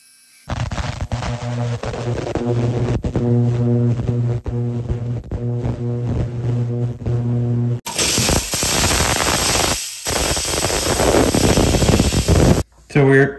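Polishing machine buffing the outside of moissanite stud earrings, a loud steady motor whine with tonal hum, shifting to a harsher hissing grind partway through, with brief cutouts.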